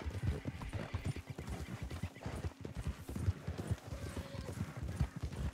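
Rhythmic video game horse hoofbeats clip-clop at a steady gallop in Red Dead Online, close and fairly quiet, with a brief whinny partway through and no talking.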